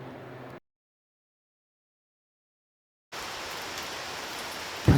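Steady rain falls in a broad hiss, breaking off into total silence for a few seconds before resuming at the same even level, with a sharp close knock at the very end.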